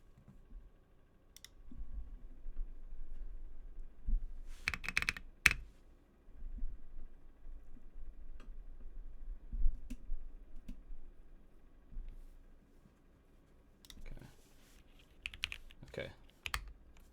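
Typing on a keyboard fitted with lubed Gateron Milky Yellow switches: soft, steady key clacks in uneven bursts, with louder clusters near the start and end, close and fairly quiet, some faint background noise.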